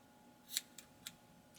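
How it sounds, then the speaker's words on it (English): Scissors snipping through yarn strands while finishing a knotted craft accent: a couple of faint, sharp metallic snips with a quieter click between them, close by against a low background hiss. "we'll take our scissors"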